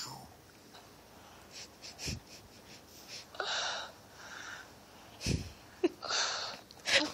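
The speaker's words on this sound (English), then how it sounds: "she's like breathing all heavy on the phone" Heavy, wheezy breaths and snorts come through a phone line in uneven bursts, fairly faint, with some quiet background noise between them.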